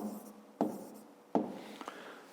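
Pen or chalk writing out the volume of a cube for a fifth-grade math exercise, heard as two short scratchy bursts and a faint tap, close and quiet, with no talking.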